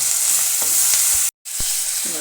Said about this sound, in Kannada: ಇನ್ನೂ ಸ್ವಲ್ಪ ಈರುಳ್ಳಿ ಫ್ರೈ ಮಾಡೋಣ